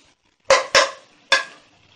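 Chopped garlic hits melted butter in a pan, giving three loud, sharp sizzling hisses in quick succession that each fade fast, with near silence between them.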